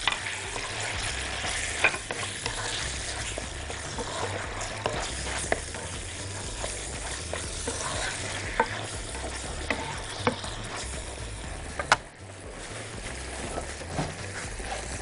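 Chicken frying in a pan with steady sizzling and repeated stirring scrapes, a dense continuous crackle with occasional sharper clicks of the utensil; no talking.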